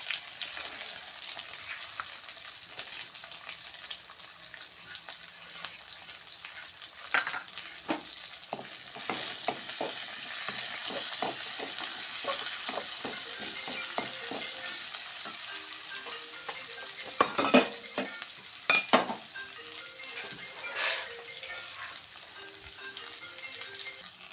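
Garlic, ginger, green chilli, shallots and curry leaves sizzle in hot oil, a steady bright crackle broken by repeated scraping stirs of a spoon against the pan, with a few sharper clatters near the end; no voices.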